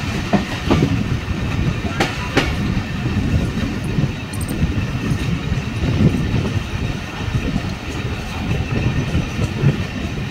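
A train rolls steadily at cautious, walking-pace speed, with rhythmic clickety-clack of wheels over rail joints and a constant rumbling undertone, plus a few sharp metallic clanks.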